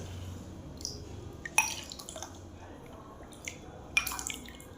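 Faint water splashes and drips sound as ice apple (palm fruit) is washed, with a few sharper splashes over a quiet background.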